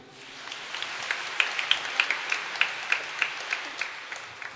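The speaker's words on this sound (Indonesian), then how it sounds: "beri tepuk tangan dulu" A church congregation at an Easter Sunday Mass gives light, brisk applause, with individual claps standing out clearly as the clapping builds and then continues at a moderate level.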